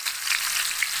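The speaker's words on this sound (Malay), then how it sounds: "Kita goreng ikan bilis ni sampai garing" Anchovies (ikan bilis) frying in oil left from cooking eggs give a steady, close hiss of sizzling with small crackles, without any talk.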